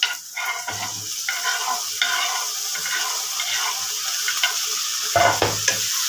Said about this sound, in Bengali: এবার এর মধ্যে টমেটোটাকে দিয়ে দেবো টমেটোটা দিয়ে দেবো